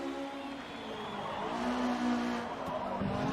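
Acura car engine in Forza Motorsport racing through a corner, a steady droning engine tone with tire squeal running throughout at constant loudness, no talk.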